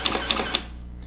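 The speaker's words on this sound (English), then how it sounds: "as I adjust the command wheel, the aperture changes" Three crisp mechanical clicks from the command wheel of a Canon EOS 3 film camera, spaced about a quarter second apart and close by, then fading to near silence.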